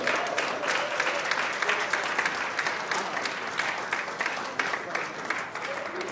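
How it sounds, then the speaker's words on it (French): Wedding guests at a Congolese wedding clapping for the newlyweds, lively sustained applause from a roomful of people with scattered voices mixed in. "applaudissez une fois pour les nouveaux mariés"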